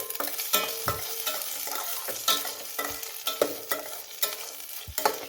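Six or seven large-cut garlic cloves with a pinch of salt sauté in a pan over medium heat for almond broccoli soup, sizzling steadily while a utensil repeatedly stirs and scrapes in sharp knocks.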